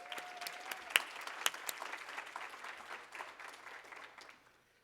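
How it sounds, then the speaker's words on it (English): Audience applause at a melanoma patient forum, a room of people clapping with a few sharper claps, holding steady for several seconds before fading out. "I think that deserves a round of applause."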